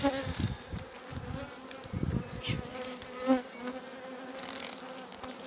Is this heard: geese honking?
no